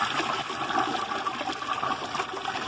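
A newly installed, secondhand toilet from a Habitat ReStore flushes nearby, giving a steady, close rush of water for the whole stretch, with no talk over it.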